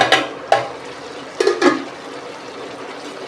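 A pan lid comes off a pot of chicken and potatoes being braised, followed by a few close metallic clinks and soft scraping stirs over a steady low simmering hiss.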